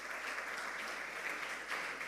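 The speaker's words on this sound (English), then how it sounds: "Can we give them all a round of applause?" Faint, steady applause from an audience at a school quiz contest, a continuous patter of clapping heard at a distance with no voices.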